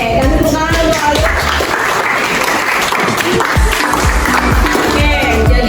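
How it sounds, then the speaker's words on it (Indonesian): Classroom students applaud a classmate, a loud burst of many hands clapping at once that carries on steadily for several seconds, with some voices mixed in. "kasih tepuk tangan untuk Aldo"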